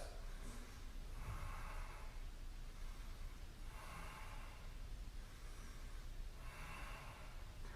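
Three slow, deep breaths taken while holding a stretch during an exercise routine, each inhale and exhale a soft airy swell spaced evenly, close and quiet, with no talk.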